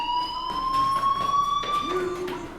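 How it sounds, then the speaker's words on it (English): Fire alarm in the video game Life is Strange, a steady high electronic tone with a faint pulsing beat, sounding continuously at moderate volume over a brief stretch. "do you hear that fire alarm? That means you should be outside."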